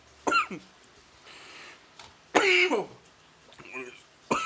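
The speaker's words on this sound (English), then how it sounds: "Oh, sorry if I'm coughing" Harsh, close coughing fit from a man choking on something that went down the wrong pipe, in three loud bursts with throat-clearing rasps and short gaps between.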